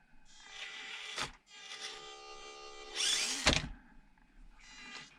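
Small electric motor of a 1/24-scale RC crawler whirring in short bursts, close and faint, its whine starting and stopping several times with brief scraping noises between runs.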